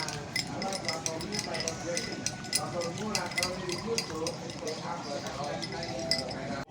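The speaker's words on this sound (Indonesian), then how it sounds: "Pandannya kita aduk sekarang ya" Stirring pandan into a gamora mixture with a utensil: a continuous stream of light clinks and scraping taps against the container, close by, running under a person talking throughout.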